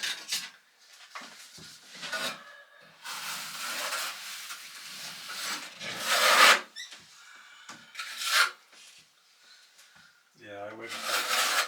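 Tile adhesive scraped and spread with a trowel in a shower, in short irregular rasping strokes of changing loudness, heard close by under intermittent conversation.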